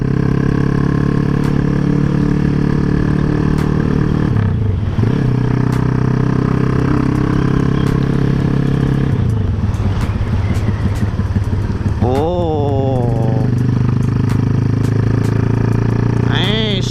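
Motorcycles pass close by on a street near a contest event in Banjarnegara, their engines droning loudly and swelling and falling in pitch as each goes by, with people talking over the traffic.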